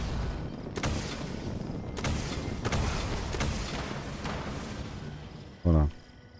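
Fallout 76 weapon fire booms out in several heavy, widely spaced shots over a continuous rumbling din, followed by a short loud burst near the end.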